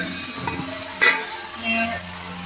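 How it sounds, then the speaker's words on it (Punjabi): Onions dropped into hot ghee give a soft, moderate sizzle that swells with a brief splash near the start, then settles into a steady fry with no voices. "ਹੁਣ ਪਿਆਜ਼ ਕਰਦੇ ਆ ਐਡ"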